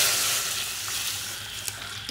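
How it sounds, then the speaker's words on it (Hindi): Dal chhonk, a tempering with garlic, sizzles steadily in a pan, giving a close, continuous hiss with faint crackles and no talking. "देखिए दाल छोका हो गया"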